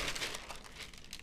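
Baking paper laid over sourdough discard cracker dough, a soft continuous crinkling and rustling of paper close by for over a second, faint and with no talk.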